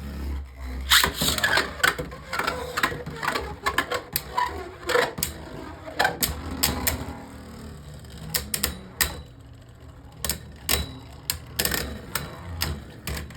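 Beyblade Burst tops battling in a stadium, giving rapid sharp plastic clacks and rattling collisions in irregular bursts, fairly close, with short quieter gaps between clashes.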